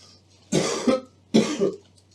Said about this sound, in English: Now I'm going to have the patient cough.